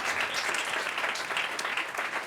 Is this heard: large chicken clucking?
no